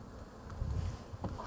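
Honeybees buzzing at an open hive during a queen release check, a steady low drone close to the microphone with faint shifting swells and light wind noise.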